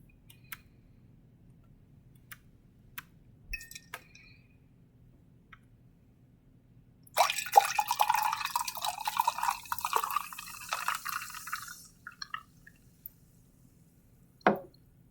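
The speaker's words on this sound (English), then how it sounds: "that was sparkling water being poured into a cup" Sparkling water poured into a cup: a fizzing, hissing pour of about five seconds in the middle, set among scattered small ticks and drips in a quiet room, followed by a single sharp knock near the end.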